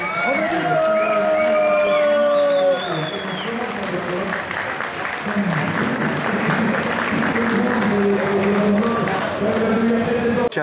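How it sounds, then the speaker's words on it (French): A crowd at a Capcom vs SNK 2 fighting game tournament final at Stunfest 2013 breaks into sustained applause and cheering, loud and dense, while voices shout and talk over the clapping throughout. "Un petit dernier round d'applaudissements"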